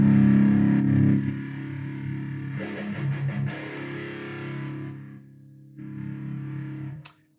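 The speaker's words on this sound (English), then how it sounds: "So this one was assigned to the gain of the distortion pedal." Electric guitar through a distortion pedal on a Valeton GP200JR multi-effects unit, thick sustained distorted chords ringing loud and alone, with brief pauses and a re-struck chord before a final cutoff.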